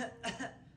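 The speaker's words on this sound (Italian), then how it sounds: "Vinci non deve più tossire!" A single short cough from a character in the video game Billie Bust Up, two quick faint bursts heard alone.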